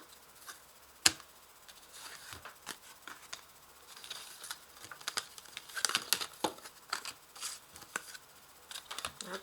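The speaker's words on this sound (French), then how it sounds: "je vais ranger d'abord toutes mes cartes" Tarot cards are gathered and put away by hand, giving soft, irregular shuffling, rustling and light tapping sounds, quiet and close, with brief sharper clicks.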